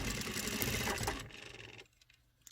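An industrial sewing machine stitching a slanted trouser pocket, a dense close whirr for about two seconds that drops off abruptly into near silence.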